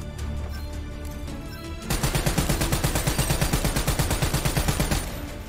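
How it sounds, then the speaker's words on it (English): Gunfire in the Call of Duty Black Ops 3 campaign: quieter, scattered shots at first, then a loud rapid automatic burst with an even, steady rhythm lasting several seconds, with no voices. "Who the fuck is shooting?"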